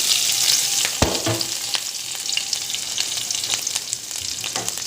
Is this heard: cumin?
yes